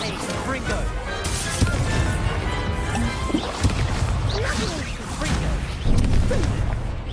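Confringo spell cast in Hogwarts Legacy during a dueling fight: fiery bursts, whooshes and crashing impacts come in quick succession, loud and up close, amid layered combat noise.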